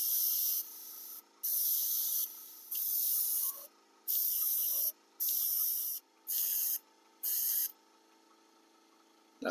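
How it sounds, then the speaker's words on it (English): An airbrush sprays Golden airbrush acrylic in burnt sienna over a stencil on a model building, in seven sharp, steady hissing bursts separated by short silences, close and loud. "I'm using some golden airbrush acrylics,"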